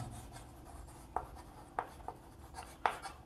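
Chalk or pen scratches across a board in a few short, separate strokes, faint and close, during a quiet pause in a Class 5 maths lesson.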